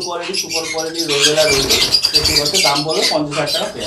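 Rosella parrots at a large exotic bird farm call loudly and continuously in a dense, overlapping chorus of chirps and whistles, with many birds sounding together and fairly close.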